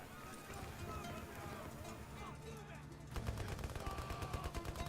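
Gunfire in a Middle East war shooter video game, with rapid bursts of shots that grow louder and denser toward the end under a busy game soundtrack.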